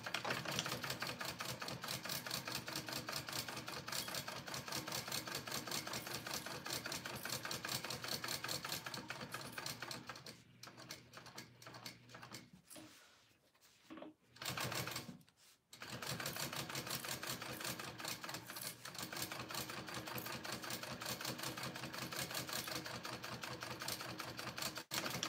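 A sewing machine top stitches a Harlequin tote bag in a long, fast, even mechanical rattle, close and loud, with two short pauses near the middle before the stitching resumes.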